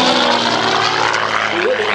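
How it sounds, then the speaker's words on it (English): Gamebird GB1, a light aerobatic touring propeller aircraft, passing close and loud at Sywell airfield. A steady, buzzing propeller and engine roar carries on without a break. "So this is a bit of a hybrid really, an aerobatic aircraft but also a tourer."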